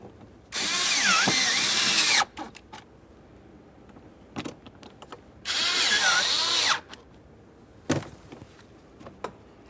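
Power drill driving the upper mounting screws into the glove box of a 2013–2020 Ford Fusion, two long, loud whirring runs with pitch shifts as the screws seat, separated by clicks and handling taps.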